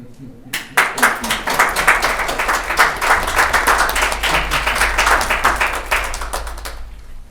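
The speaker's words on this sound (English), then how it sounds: "Let's give them another round of applause" Audience at a county board of commissioners meeting breaking into applause after a proclamation, many hands clapping loudly and densely for several seconds before tapering off, with a voice faintly underneath.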